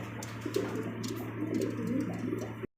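A pigeon coos in a series of soft, low, rolling calls close by, repeating over a constant background hum before cutting off abruptly.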